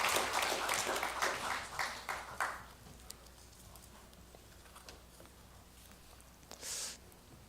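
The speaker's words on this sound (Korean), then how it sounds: "다시 한번 박수하시겠습니다" A church congregation at a Sunday service bursts into applause that is loud at first, then thins out and fades over the first few seconds. Scattered soft sounds follow in a quiet room.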